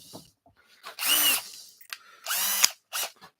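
A cordless drill works on wood during a woodturning job, running in two loud, whirring bursts of about half a second each. Short, faint clicks and handling noises fall between the bursts.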